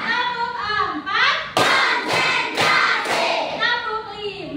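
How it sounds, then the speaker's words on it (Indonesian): A class of schoolchildren claps together in a counted rhythm pattern, producing a handful of sharp, loud, evenly spaced group claps in the middle, with children's voices chanting before and after. "dengan melaksanakan tepuk 1 sampai 5"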